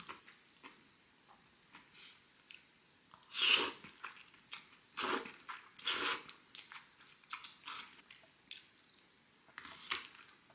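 Hasty eating with crisp chewing and biting, likely altari kimchi (young radish kimchi) alongside a Chinese-style meal: close, uneven crunchy bursts separated by quieter chewing, with no talking.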